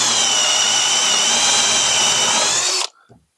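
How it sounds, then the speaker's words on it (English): A power drill with a big bit counterbores wood, holding a steady high whine for nearly three seconds before cutting off abruptly into near silence. "I'm going to counter bore the front side with this nice big bit so that I can use smaller screws"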